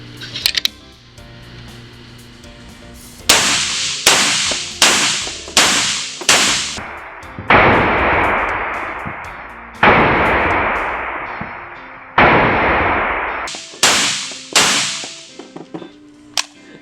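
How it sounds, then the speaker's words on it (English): Rifle fired on a range after its bolt carrier group was lubricated: about a dozen sharp, loud shots alone, first in quick single pops, then a few spaced reports with long ringing decay, ending in another fast string. "let's put it in one of our Zaviar rifles and test fire"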